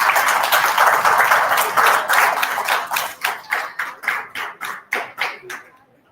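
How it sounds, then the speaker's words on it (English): Applause for a speaker at a physiotherapy conference, starting as a full crowd clapping and thinning into a few slow, separate claps that fade out. "Please have a huge round of applause for ma'am."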